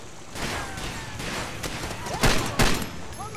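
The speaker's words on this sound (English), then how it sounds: "We got mortars incoming." Mortar explosions and gunfire in the video game Far Cry 2 sound as a run of loud, close blasts, with two heavier booms near the end.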